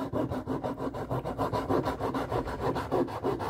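A part for a Redcat Everest 10 RC car suspension is trimmed by hand with a steady back-and-forth rasping stroke, about four strokes a second. The sound is close and even, with no talk.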